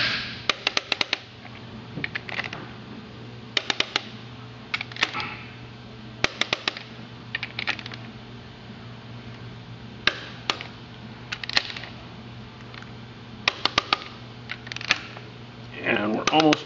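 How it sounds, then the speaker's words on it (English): Sharp mechanical clicks of a torque wrench tightening the cylinder head bolts on a 1974 MG arrive in quick clusters of several, repeated over and over with pauses between, close up and loud against a low steady hum. "You can hear it clicking now in its resistance to turn."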